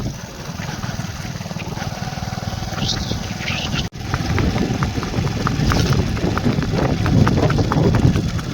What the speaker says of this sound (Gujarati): જોઈ શકો છો મિત્રો ઘોડો હાલ્યો આવે છે